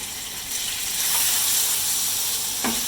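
Pork hits a pan of thick panang curry paste and coconut milk, setting off a loud, steady sizzle with bubbling and brief scraping stirs throughout, no voices over it.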